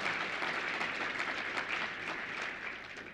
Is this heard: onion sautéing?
no